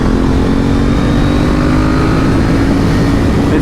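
A Street Triple RS or KTM 890 Duke R motorcycle engine roars loud and close, holding a steady, snarling drone from start to finish with no break.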